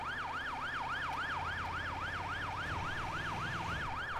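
An ambulance siren in the GTA roleplay video game wails in a steady, rapid rising-and-falling cycle, faint and continuous over a low engine hum.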